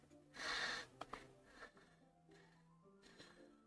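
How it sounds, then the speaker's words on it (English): A sharp breath drawn in through the teeth in the game Dead Space (2008), a loud hissing inhale followed by fainter, raspy breaths in a quiet setting. "It sounds like breathing. Sharp inhale, like someone sucking the air through their teeth."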